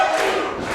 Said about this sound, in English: Do you hear this crowd? Listen to this.